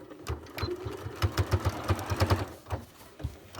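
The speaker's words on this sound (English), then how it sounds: "My machine is a little bit off and sounding a little rough because I jammed it on something earlier" A sewing machine running slightly rough after jamming, stitching in quick uneven bursts of rhythmic clattering thumps, close and fairly loud, pausing briefly and restarting.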